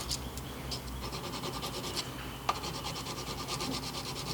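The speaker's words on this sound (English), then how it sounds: "polishing all the surface of contact because the more polished it is, the smoother the action is" Steel knife parts of a handmade slipjoint folder being polished on their contact surfaces, giving a steady close rubbing and rasping scrape with a few light ticks and no talk.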